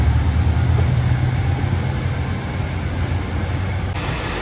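A JR Shikoku 1500 series diesel railcar at Kuramoto Station rumbles steadily with a low, continuous engine drone and broadband rolling noise, loud and close throughout with no voices.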